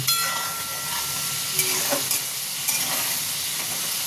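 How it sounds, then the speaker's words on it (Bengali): Potato pieces fry in hot oil in a pan for chicken keema, making a continuous close sizzle with occasional spoon scrapes and soft knocks, with no voices. "দেখুন আমার আলুটা লাল লাল করে ভাজা হয়ে গেছে, আর একটু লাল করব"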